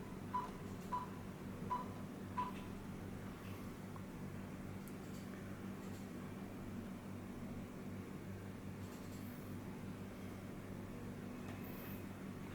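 Four short electronic beeps in the first few seconds of a Bluetooth phone call through a Belsee 12.3-inch CarPlay and Android Auto head unit in a Toyota FJ Cruiser, followed by a steady low in-car hum with no talking.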